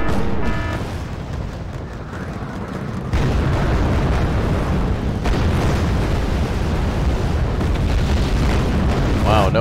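A huge bomb dropped by an enemy bomber detonates in the Wargame: Red Dragon real-time strategy game. A loud, sustained roar of rumbling blast noise swells partway through and holds heavy and dense to the end.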